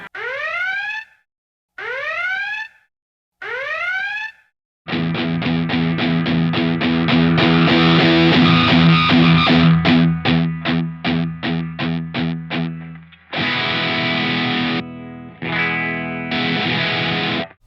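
Loud electric guitar through a Stacks FX Ohms Series Acid Cat fuzz pedal: three rising swept notes, then a dense run of rapid chopped notes and sustained buzzing chords, aggressive and saturated.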